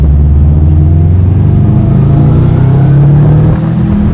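Subaru WRX STI engine under full throttle, a loud, continuous low rumble rising steadily in pitch as revs climb, heard from inside the car with no talking.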